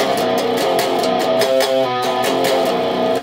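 A loud, distorted electric guitar plays a song's verse riff: a chugging riff with palm-muted open-string hits and ringing chords, continuous and dense from start to finish.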